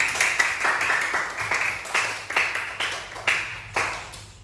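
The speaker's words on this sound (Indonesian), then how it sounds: "Tepuk tangan untuk kalian semua." A class of schoolchildren claps hands together in a classroom, sharp collective bursts repeating at a brisk, steady pulse for several seconds, fairly loud and without talk.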